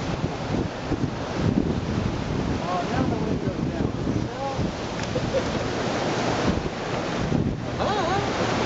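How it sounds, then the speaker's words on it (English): Wind and ocean waves rushing past a sailboat racing in the Transpac, with steady broadband wind buffeting the microphone and continuous surf and water wash throughout, loud and unbroken. "Wind's dying now."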